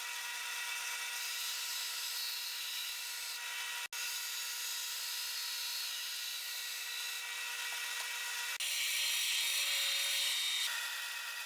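Steady, loud abrasive grinding of a Damascus steel knife blade by hand, a continuous rasping hiss with a brief break near four seconds and a slightly harsher stretch toward the end, no voices.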